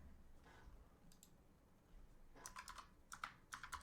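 Quiet computer keyboard typing in short bursts of rapid key clicks, with scattered taps early on and denser clusters near the end, heard alone without speech.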